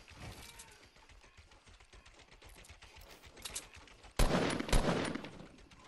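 Video game gunfire crackles as a steady rapid patter of shots, then a much louder, denser burst of blasts erupts near the end.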